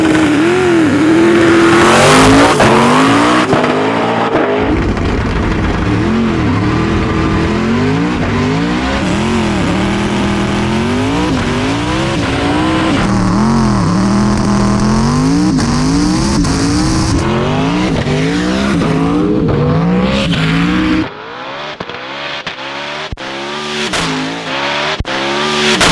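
Ken Block's 1,400 hp all-wheel-drive Ford Mustang Hoonicorn races a McLaren Senna. Engines roar loud and close, with revs climbing and falling through gear changes, and a sharp drop near the end followed by rapid popping bursts.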